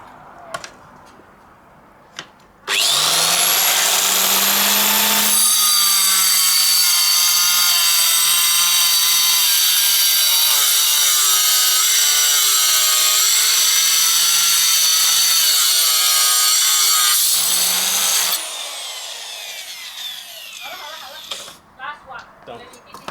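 A wet saw slices through tile on a makeshift cutting table, starting abruptly and holding a loud, steady grinding whine with a shifting pitch for about fifteen seconds before spinning down, with quieter handling noises around it.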